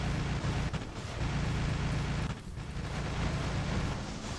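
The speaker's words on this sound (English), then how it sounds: "it works on a Hellburner explosion" A Hellburner explosion in the robot-combat video game War Robots booms as a heavy, sustained rumbling blast, briefly dipping before the low roar swells back up.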